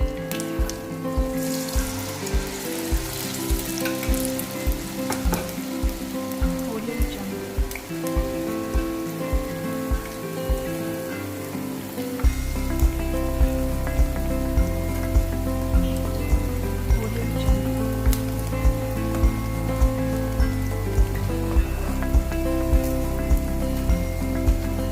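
Malpua batter frying in hot oil, a steady close crackling sizzle like rain throughout, thickening partway through as more batter goes in, with no voices.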